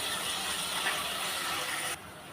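Onions sauté in a pot while chicken biryani is made in a pressure cooker, producing a steady broadband hiss and sizzle that drops abruptly near the end, with no talking.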